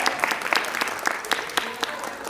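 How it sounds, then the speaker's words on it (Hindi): An audience applauds in honour of the artist Komal at a stage event, with brisk, dense clapping and individual sharp claps standing out, continuing steadily throughout. "अपनी तालियों की गड़गड़ाहट के साथ"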